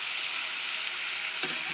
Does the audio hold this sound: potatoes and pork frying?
yes